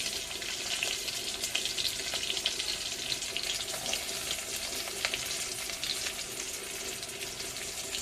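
Spice paste with green chillies and ginger paste frying in a pan gives off a dense, steady sizzle that runs evenly throughout, close and fairly loud, with no talking.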